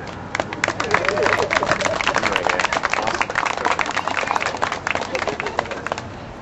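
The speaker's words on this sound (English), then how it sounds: "I just want to give a big round of applause for Rob." A crowd at an End the Fed gathering applauds with steady, dense clapping that holds at a fairly even level throughout, mixed with faint crowd murmur.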